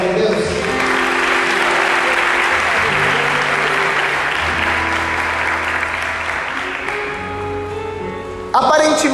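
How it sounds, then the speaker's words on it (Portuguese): Loud, sustained applause from a church congregation during a sermon, a dense wash of clapping lasting several seconds before tapering off, with a low tonal hum beneath. "Vamos aplaudir a palavra de Deus?"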